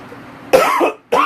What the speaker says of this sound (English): My cough still hasn't gone away